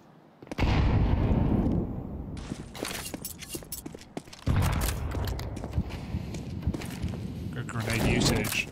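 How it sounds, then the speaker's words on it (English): Grenade blasts and gunfire in a Counter-Strike match at a major esports tournament: a loud explosion opens, followed by scattered shots, footsteps and a second heavy burst, with a caster talking over parts of it. "Good grenade usage, gets a bit of damage"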